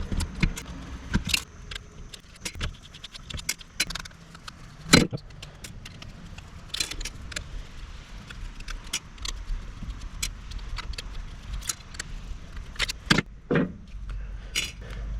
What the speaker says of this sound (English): Let's take all these Phillips head screws out.